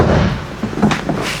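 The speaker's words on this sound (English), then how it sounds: "that's a solid door that's not all rattly and rusted and beat up inside" A heavy 1972 Chevrolet car door shuts with a solid, dull thud, close up and brief, with no rattle afterward.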